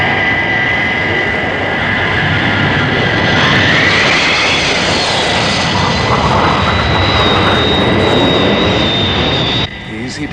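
Thunderbird aircraft engines roaring on final approach for landing in an animated Thunderbirds episode, a loud sustained jet whine and rumble with a rising tone, cutting off abruptly near the end.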